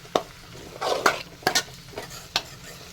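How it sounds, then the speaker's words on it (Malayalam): Masala for a mushroom roast is stirred in a pan, with a soft sizzle under sharp spoon clinks and scrapes against the metal, several distinct taps spaced irregularly, close up. "ഇനി നന്നായിട്ടൊന്ന് ഇളക്കി കൊടുക്കുക."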